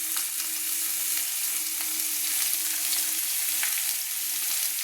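Kohlrabi sizzles in a wok with salt and turmeric, a steady, loud frying hiss with faint stirring clicks throughout, no voices.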